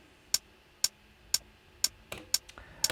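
A Digitakt drum machine hi-hat ticking crisply in a steady half-second pattern, then breaking into quicker, slightly softer extra hits near the end, alone over a faint backdrop.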